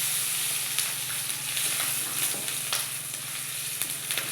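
Dry red chillies and garlic cloves fry in hot oil with a steady, close sizzle and faint crackles throughout, alone with no talking.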